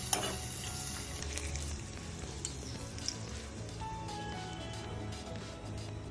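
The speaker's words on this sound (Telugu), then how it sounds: "ఇలా వేగిన తాలింపుని మనం తిరగన్నంలో వేసుకోవాలి." Fried tempering for temple-style daddojanam is mixed into curd rice, giving a close, steady sizzle and crackle that starts with a sharp burst and continues evenly to the end.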